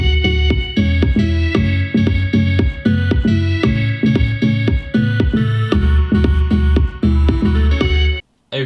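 GarageBand recreation of a song, with electric marimba and a sampler playing a bouncy plucked melody over thumping beat, loud and continuous before cutting out at the end.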